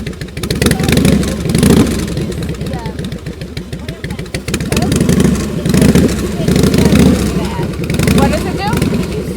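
A motorcycle engine running roughly and failing to idle properly, its uneven rumble rising and falling in pulses while people talk nearby.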